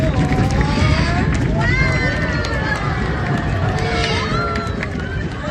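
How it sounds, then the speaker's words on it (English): An audience at African Lion Safari stomps and claps in a fast, continuous rumble of rhythmic thumping, loud and close, with scattered voices mixed in. "clap your hands, stomp your feet, and then nice and loud"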